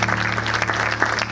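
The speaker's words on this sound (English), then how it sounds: "Please welcome him with a round of applause." Audience applause at a university event welcoming Greece's Minister of Foreign Affairs: dense, steady clapping from many hands in a hall, loud and continuous throughout, with a faint low hum beneath and no talking.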